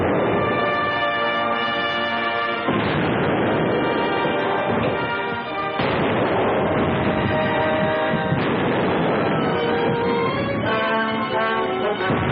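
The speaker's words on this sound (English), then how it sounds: "Hold to your course. Keep firing." Naval cannon fire from a warship battle in an old war film: repeated heavy, muffled booms and crashes, with a thin, narrow-band tone throughout.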